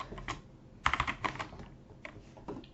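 Fingers tap an English-layout computer keyboard while Python commands are entered, in short uneven bursts of close, crisp keystrokes with pauses between, and no voices.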